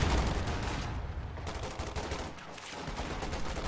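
.50 cal machine gun in a strategy video game firing rapid continuous bursts, loud and dense with a brief dip partway through, no talk.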